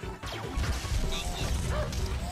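A dog barks and yips in the video game GANTZ amid mechanical clatter and crashing game effects, a busy, dense mix of short barks over continuous noise.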